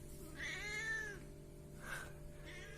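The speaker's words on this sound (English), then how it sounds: "So this is our cat." A pet cat meows twice indoors, first a long drawn-out meow and then a shorter one about a second later, fairly close and clear over a steady low background hum.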